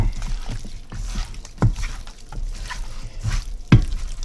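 Chicken wing drumettes coated in olive oil are stirred around in a bowl, giving soft wet sloshing and a couple of sharper clacks at an even pace, heard up close and fairly quiet.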